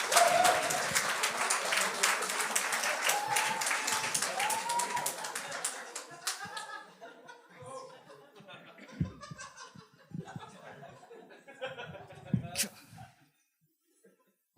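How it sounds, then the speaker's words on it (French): Audience at a Québec comedy talent show claps and laughs loudly for comedian Félix Gravel, the dense applause fading after about six seconds into scattered laughter, chuckles and murmured voices. "On continue ces beaux applaudissements."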